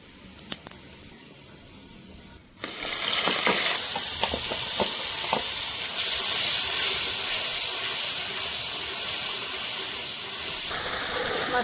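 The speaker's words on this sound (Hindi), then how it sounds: "जीरा छोड़े दे रहे।" Cumin seeds hit hot oil in a pan, bursting into a sudden loud, hissing sizzle that stays dense and close after a few quiet clicks, with no voices over it.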